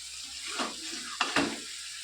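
A pan of curry sizzles steadily while it is stirred, with a couple of louder scraping bursts from a spoon near the end.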